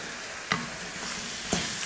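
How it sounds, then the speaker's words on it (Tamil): Mushroom pieces stir-fried with onions in a hot pan give a steady low sizzle, with two brief scraping clinks of the spatula about a second apart, nearby and without voices. "இதில் நம்ம காளான் சேர்த்துக்கலாம்"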